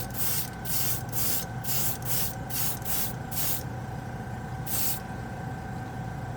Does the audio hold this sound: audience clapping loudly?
no